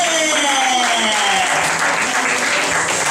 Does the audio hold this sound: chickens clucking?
no